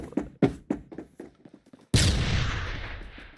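Shotgun firing in Phantom Forces: a quick run of several sharp, close blasts in an uneven rhythm, then one much louder boom that rings out and fades slowly.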